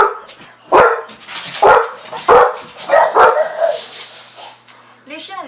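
Several dogs bark and yip in loud, sharp bursts spaced about a second apart, with a whimpering whine at the end; a person talks at times between the barks.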